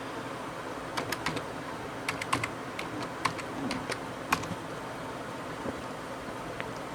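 Quiet, irregular clicks of a computer keyboard as someone types a password, with short bursts of keystrokes and small pauses between them.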